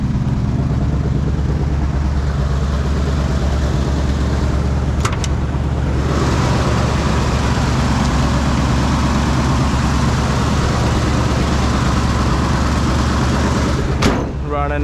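A 1978 Ford F250 Explorer Ranger idling, a steady low engine drone heard from inside the cab alongside road and wind noise, with a couple of brief clicks and knocks.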